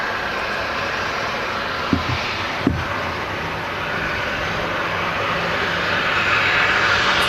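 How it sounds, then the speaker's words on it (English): A Virgin Atlantic jet airliner departs from Manchester Airport with a broad, steady engine roar that builds gradually toward the end. A couple of brief knocks sound early on, and no one speaks. "Rachel enjoying that Virgin Atlantic departure"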